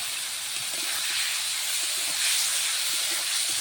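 Fish fried in a pan of hot oil gives a loud, steady hiss of sizzling that runs unbroken throughout, close to the microphone, with no talking.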